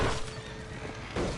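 Horses whinny and neigh in a burning barn in the Red Dead Redemption video game, with one cry at the start and another near the end over a steady, busy background.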